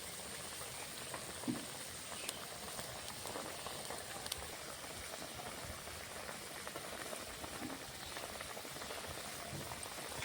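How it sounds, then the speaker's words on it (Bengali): Puti fish curry broth with onion and garlic bubbling steadily in a pan, a continuous soft rolling simmer with faint pops, close and moderately quiet, no voices. "ঝোলটা ফুটে উঠেছে আর আরও কিছুক্ষণ সময় ফোটাবো"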